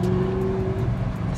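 Audi R8 V8 supercar engine hums steadily from inside the cabin on a bumpy road, a sustained tone holding then dropping off partway through, with low road rumble underneath.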